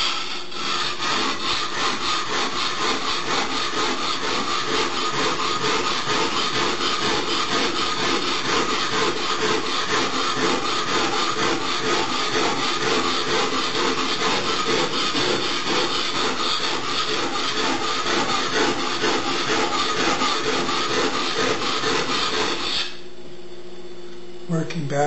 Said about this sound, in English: Working back and forth across the stone to keep wear on the stone even.